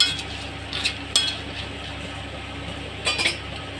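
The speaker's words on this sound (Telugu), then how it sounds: "ఇప్పుడు అటు ఇటు కలుపుతూ బాగా ఫ్రై చేయాలి." Spoon scraping and clinking in a pan while horse gram, tamarind and cumin are stirred and dry-fried, a few sharp metallic taps standing out over a low, steady background.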